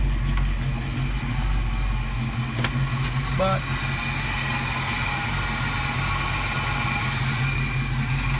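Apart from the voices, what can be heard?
GMC Yukon engine idling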